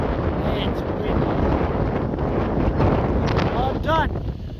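Strong gusts batter the microphone outdoors during a pea harvest in a field, a loud continuous rumbling roar, with a voice briefly heard under the noise.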